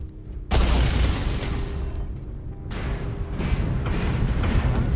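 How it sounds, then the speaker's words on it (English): Artillery strike explosions in a mech combat video game: a heavy boom lands abruptly, followed by a second blast and sustained rumbling, dense and loud throughout. "Artillery strike online."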